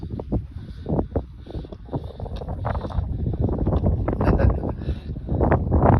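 Wind buffets the microphone outdoors at a 2021 high school graduation ceremony, a steady low rumbling roar with gusty surges that swell louder toward the end.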